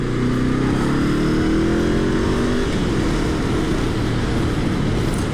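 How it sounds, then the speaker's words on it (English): A Honda CL500 motorcycle's engine and exhaust rev up hard and loud, the tone climbing steadily as it accelerates, then holding at a busy, rough roar close by throughout. "The engine makes a lot of noise. It's a lot of beautiful noise"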